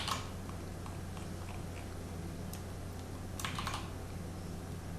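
Computer keyboard keys tapped during a cut-and-paste edit of code, a few quiet clicks and short bursts of keystrokes over a steady low hum, fairly faint and close, with no talking.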